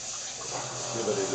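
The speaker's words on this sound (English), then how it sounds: "Turning on my little distilled water pump over there." A small distilled water pump runs in a gold-plating lab, sending a soft rushing stream of water over parts for a final rinse, a steady close hiss and trickle lasting just over a second.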